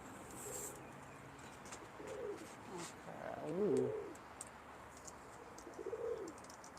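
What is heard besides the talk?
pigeons cooing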